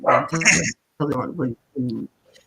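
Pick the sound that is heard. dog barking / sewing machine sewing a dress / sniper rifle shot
dog barking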